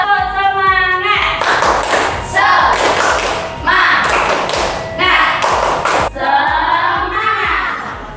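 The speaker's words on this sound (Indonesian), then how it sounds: "kita tepuk semangat terlebih dahulu ya" A classroom of pupils performs a rhythmic spirit clap led by the teacher, with bursts of loud patterned clapping and thumps alternating with the teacher's voice calling out the cue.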